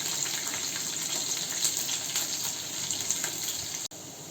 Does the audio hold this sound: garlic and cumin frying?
yes